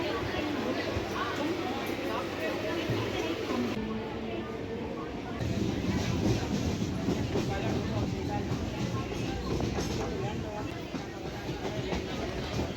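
An MRTS train runs between Velachery and Beach, a continuous rumble and rattle of the carriage with a noticeable shift partway through, and a voice talking over it.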